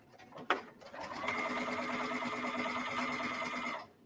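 Sewing machine stitching a fabric book pocket seam with a 3/8 to 1/4 inch seam allowance: a sharp click, then a steady, fairly quiet mechanical whir running for about three seconds before stopping.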